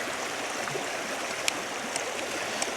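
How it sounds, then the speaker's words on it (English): A backcountry stream flows with a steady, broad rushing wash of water close by, occasional small splashes and clicks standing out. "I am bent over, finding a clean spot in the stream"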